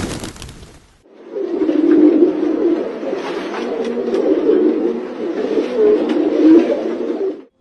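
Pigeons coo in a steady, close, moderately loud stream of soft, throaty calls that runs for several seconds after a brief burst of noise at the start.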